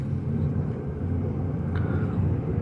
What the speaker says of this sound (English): Airplane going by.